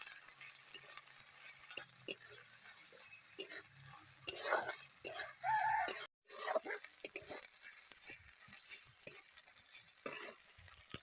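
Ginger-garlic paste stir-fried with fried onions in a pan for a desi chicken kosha, with steady close sizzling and the scrape and clatter of a spatula stirring throughout, briefly cutting out midway.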